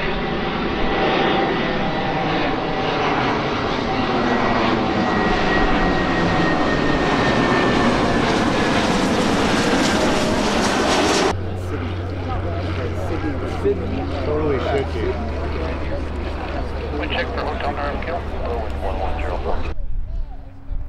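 Aircraft engines drone steadily at an airfield in Hawaii as planes taxi and fly past, loud and close at first, then dropping to a lower, steadier rumble with a low hum underneath.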